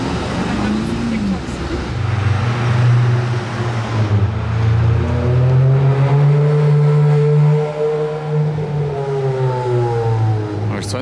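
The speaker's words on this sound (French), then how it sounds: "Elle sonne fort, elle a les valves constamment ouvertes, la F430" Ferrari F430 running with its exhaust valves held open, a loud engine tone swelling and holding, heard close among street noise with people talking over it.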